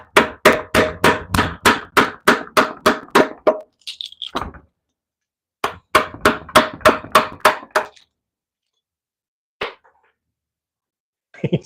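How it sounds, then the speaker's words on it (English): Woodcarving tool hollowing out the center of a log, rapid evenly spaced sharp knocks in two bursts of about a dozen strikes each, with a few isolated thuds afterward, close and loud. "Progress at wallowing out the center of this log is coming pretty well"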